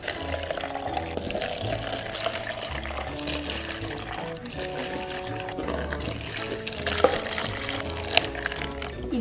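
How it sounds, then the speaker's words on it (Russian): Blue-tinted water pours into plastic cups, trickling and splashing steadily at close range, with shifting gurgles as the cups fill. "И наполним их такой вот синей водичкой."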